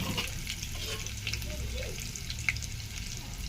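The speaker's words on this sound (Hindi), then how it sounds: "देखिए कैसा पक रहा है लहसुन। लाल होने के लिए हम लोग छोड़ देते हैं पहले।" Garlic fries in a pan for Maggi noodles, a soft, steady sizzle with small crackles and a faint clink of stirring, quiet and close.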